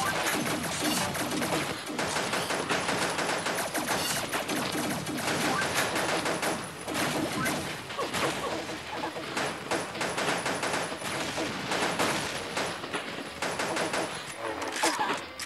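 Rapid, sustained machine gun fire rattles almost without pause in the Pixel Gun 3D shooter game, dense bursts overlapping with other gunshots and crashes at a steady loud level throughout.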